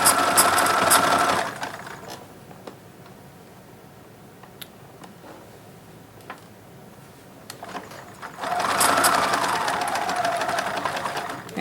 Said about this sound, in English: When you come to the seams, you're going to sew up to the seam.